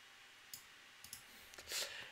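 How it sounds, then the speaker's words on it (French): A computer mouse clicks a few times, faint, sharp ticks spaced out in a quiet room, ending with a brief brushing rustle. "Donc je clique ici, je colle mon lien YouTube"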